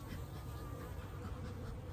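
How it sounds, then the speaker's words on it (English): A dense, steady buzzing of many agitated honeybees swarms close by after a thunderstorm, droning continuously without pause and with no voices. "I can tell these bees are not too happy today."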